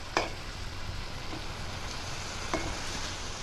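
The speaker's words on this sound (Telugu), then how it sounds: "ఇలా గడుపుతో తిప్పుతున్నాం" Okra pieces and green chillies fry in hot oil with a steady close sizzle, while a ladle stirs them with a few light scrapes and taps against the pan.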